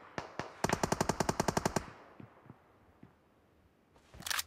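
Video game gunfire: a rapid automatic burst of about a dozen evenly spaced shots, preceded by two single shots and followed by scattered fainter impacts, then a short bright rattle at the end, with no talk.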